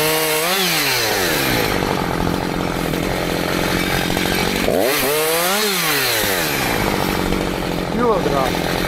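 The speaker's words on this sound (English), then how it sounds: "Cut that with the chainsaw." A chainsaw cuts wood on a farm, its loud engine whining continuously and rising and falling in pitch as it bogs into the log and revs back up.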